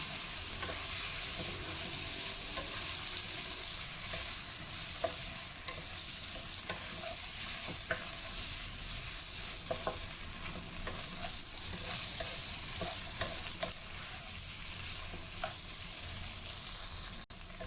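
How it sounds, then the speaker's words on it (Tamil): Fried tofu stirred and mixed in a pan for a sambal chilli fry, a quiet steady sizzle under repeated scraping and clinking of a spatula throughout. "இப்போ இதோட இந்த ஃப்ரை பண்ணி வச்சுருக்கிற டோஃபுவும் சேர்த்து நல்லா கலந்து விட்டுக்கலாம்."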